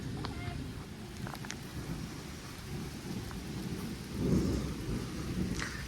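Heavy rain pours steadily with low rumbling thunder that swells to a louder roll near the end, a dense constant wash heard close and without talk.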